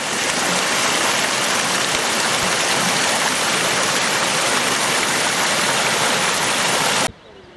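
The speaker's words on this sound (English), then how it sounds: "So many beautiful streams and waterfalls around here." Rushing stream or waterfall in a Scottish glen, a loud, steady broadband roar of falling water that runs unbroken for about seven seconds before cutting off abruptly.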